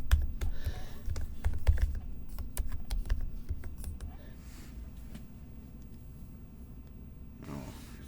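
Typing on a Mac computer keyboard while entering a password in Terminal: quick, close, irregular key clicks for about four seconds, then a brief pause and a final keystroke or two over faint background hum.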